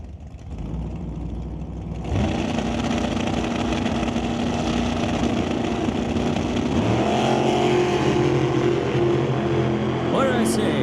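A 1932 Bantam Altered drag car with a big block Chevy engine roars loud and close at a drag strip, the engine rising from about two seconds in and holding a steady, harsh blare, with a voice talking over it.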